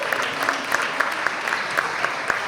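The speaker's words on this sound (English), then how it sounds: "Let's give our team captain a round of applause." Steady applause from a city council meeting audience greeting the team captain, a dense even patter of claps with a few sharper individual claps standing out, moderately close and continuous with no talk over it.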